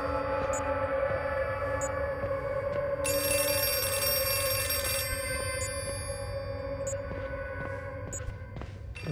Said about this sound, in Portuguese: Se deixaram tocando até agora, se cair a ligação, eles ligam de novo.